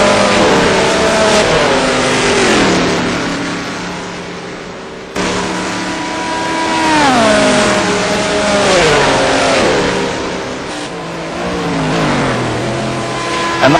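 Loud Saleen Mustang race car at Le Mans, its engine note climbing through repeated gear changes as it accelerates hard down the long straight, steady and close throughout.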